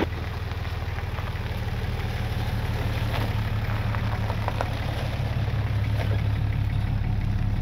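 Steady semi truck engine idling with a low, even rumble throughout, close and continuous with no talk, light clicks and rattles over the drone.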